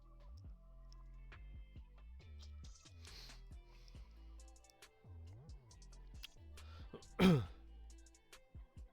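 A single muffled cough or throat clear bursts out briefly, slightly off-mic, against quiet background ticks and faint hum.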